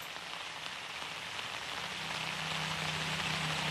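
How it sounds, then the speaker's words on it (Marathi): Heavy monsoon rain falls at Radhanagari in Kolhapur district, a steady wash of rain noise that grows slightly louder toward the end, with no voices. "मुसळधार अशा प्रकारचा पाऊस जो आहे या तालुक्यामध्ये कोसळताना दिसतोय."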